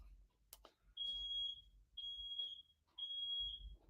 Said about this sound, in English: sorry, that fire alarm